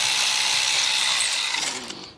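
A ratchet wrench clicks steadily as it loosens the forward heat shield on a Harley-Davidson during a Tab Performance slip-on exhaust install. The close, fast pawl clicking runs continuously and fades out at the end.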